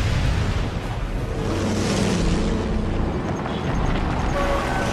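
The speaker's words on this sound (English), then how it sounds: "Heavy artillery, we've got to stay low here." Heavy artillery explosions in the Sniper Elite 3 video game, a sustained loud rumbling barrage of booms and blasts filling the whole stretch without pause.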